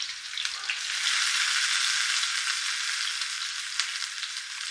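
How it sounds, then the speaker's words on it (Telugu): Chopped onion sizzles loudly and steadily in hot oil in a pan, a dense continuous crackle for a ridge gourd and prawn curry, with no voices. "ఆయిల్ కాగిన తర్వాత అందులో కొద్దిగా ఆనియన్ చేసుకున్నటువంటి ఆనియన్ మొత్తం వేయాలి"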